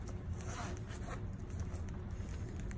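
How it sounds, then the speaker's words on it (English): A zipper on the side of a purse is drawn open in one steady, close, rasping pull that lasts the whole stretch, with a faint voice underneath. "And so, it zips all the way on the side."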